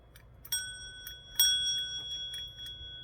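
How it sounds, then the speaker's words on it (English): A small ornate hotel bell rings twice with bright, sustained metallic tones, the second strike at about the midpoint, ringing out and fading over a quiet room. "This gorgeous little hotel bell."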